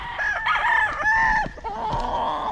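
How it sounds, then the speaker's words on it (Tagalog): Gamecock roosters crow loudly and close by, two long overlapping cock-a-doodle-doo calls in quick succession. "so narito yung ating mga alagang manok"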